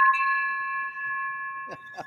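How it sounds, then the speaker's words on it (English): A celebration bell rung at a real-estate wholesaling office to mark a closed deal, a sustained ringing tone that carries through the clip, with brief voices near the end. "Finally get the bell."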